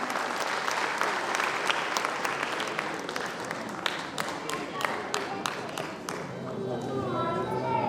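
Crowd at a cleanliness award ceremony in Varanasi applauding in a sustained, dense clapping wash, with a voice talking underneath.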